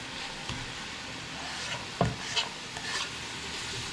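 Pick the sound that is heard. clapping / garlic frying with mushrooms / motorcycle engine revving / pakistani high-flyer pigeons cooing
garlic frying with mushrooms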